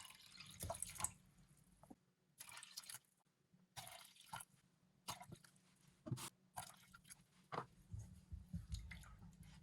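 Water poured into a pot of Thai soup with lemongrass and egg yolk, coming as short, irregular splashing and dripping bursts separated by quiet gaps, close and fairly soft.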